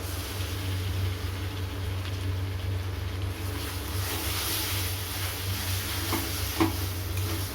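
Ginger garlic paste hits hot oil in a wok over onions that are already fried, giving a steady, soft sizzle over a low background hum, with no talking.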